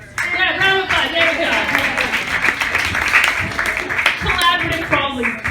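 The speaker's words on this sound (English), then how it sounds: "round of applause" A comedy festival audience breaks into a round of applause, claps and cheers filling the room at a steady level, with a performer's voice talking over the crowd and laughter.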